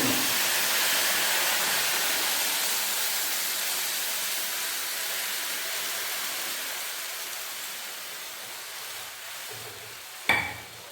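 Green chilies sizzle steadily in a pan over a low flame, a soft broad hiss that fades gradually, broken near the end by a single sharp clink.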